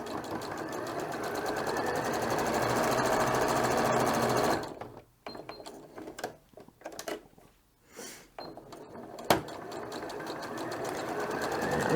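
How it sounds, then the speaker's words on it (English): A sewing machine zigzag stitching a homemade reusable scrubbing pad, its steady rapid whir running loud and close, then breaking into short bursts with pauses and a sharp tick before resuming continuous stitching. "I am sewing as much as possible along the zigzag stitch that I have created"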